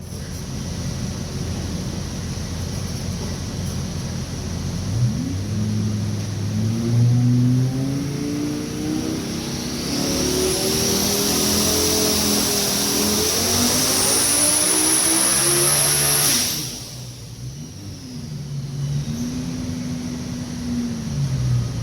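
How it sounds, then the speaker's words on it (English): A 2300 hp twin-turbo Lamborghini engine roars through a dyno pull, revs climbing steadily to a loud sustained peak with rising whine, then abruptly cutting off before idling again, close and alone. "we'll make a dyno pull and take a look at the numbers."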